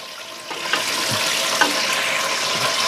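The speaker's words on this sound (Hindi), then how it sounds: "इधर मैंने रख दिया प्याज ब्राउन करने के लिए" Onions sizzle steadily in hot oil as they fry toward brown for mutton haleem, a continuous close hiss with a few light utensil clinks and no talking.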